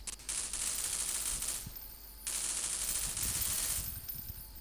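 A beta SMG1 fired in Half-Life 2 in two long sustained full-auto bursts with a brief pause between them, dense rapid rattling shots, loud and close.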